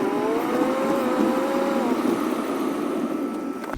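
Car driving through a neighborhood, a steady engine hum and road noise heard from inside the vehicle, continuous and moderately loud with a faint rising whine partway through.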